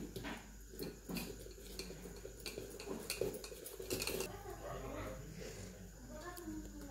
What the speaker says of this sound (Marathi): आता टाकून मिक्स करून घेऊया.